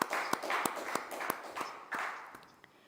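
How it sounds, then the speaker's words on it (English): A small audience gives a brief round of applause for a guest at a climate panel event, with a few sharp claps standing out over soft, scattered clapping that fades toward the end. "A round of applause for Dr. Onoja."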